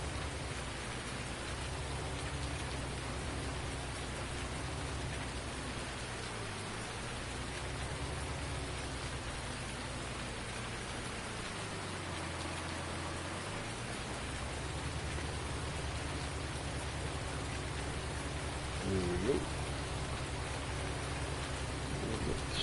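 Steady rain falls in a farming video game, a constant dense hiss of drops with no voices, even and moderately loud throughout.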